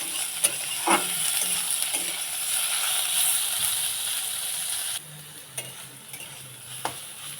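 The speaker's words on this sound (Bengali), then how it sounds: "ওল ডাঁটাটা ভালো করে ভেজে নিতে হবে।" Elephant foot yam stalks frying in a pan, a steady close sizzle with occasional stirring clicks and scrapes, loud at first and then quieter after the food is moved.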